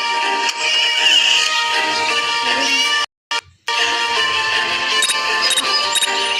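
Repeated cat meows with a synthetic, game-like tone over steady background music in the game Scary Teacher, broken by a brief moment of silence midway.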